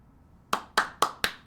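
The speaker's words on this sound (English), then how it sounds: "Mr. Coconut likes when we clap." Five sharp, evenly spaced claps ring out at a steady rhythm after a quiet moment. They sound like a single pair of hands rather than a full crowd.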